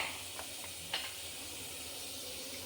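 Onion, tomato and mango sizzling in a pan for a Kerala-style prawn mango curry, a steady soft hiss with a few faint crackles, fairly quiet and without talk.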